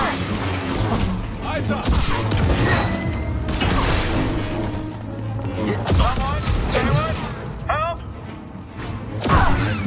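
Blaster gunfire in the Star Wars Jedi Survivor video game, rapid repeated shots and impacts mixed with mechanical clatter in a busy battle, with voices shouting over the fire.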